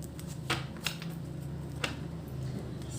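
Tarot cards handled and shuffled during a card reading, a steady soft riffling with several sharp snaps and flicks, close and moderately quiet, with no talking.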